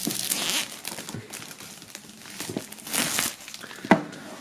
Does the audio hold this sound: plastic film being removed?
yes